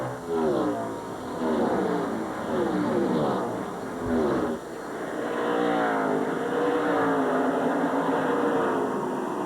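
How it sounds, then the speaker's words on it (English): Matt Kenseth's No. 17 DeWalt Chevrolet Monte Carlo races in a 2002 NASCAR Cup event, its engine a loud, sustained roar with waves of rising and falling pitch as cars run past, packed together with other engines. "Man, that 17 DeWalt car is fast."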